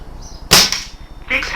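An air rifle fires a single pellet slug: one sharp, loud crack close by that fades quickly, followed by a fainter mechanical click, with no voices.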